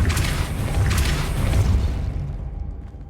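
Casting the Depulso spell in Hogwarts Legacy gives a deep booming whoosh that swells, then fades away over about two seconds.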